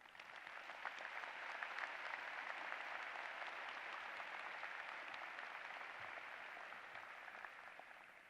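Sustained applause from a graduation ceremony audience at a Florida State University College of Law event, a steady dense clapping that holds evenly throughout with no voices over it.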